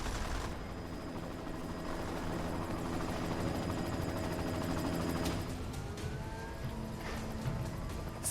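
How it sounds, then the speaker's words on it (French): Helicopter in the video game Deus Ex: Mankind Divided, a steady loud rotor drone with engine whine filling the whole stretch, joined near the end by sharper bursts that suggest gunfire. "C'était cet hélico."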